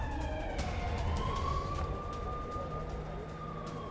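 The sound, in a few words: sirens sounding during a city blackout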